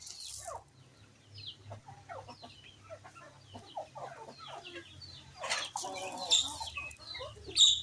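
Chickens cluck repeatedly in short, scattered calls at a moderate distance, with ducks nearby, a low steady hum beneath and a few sharper chirps near the end.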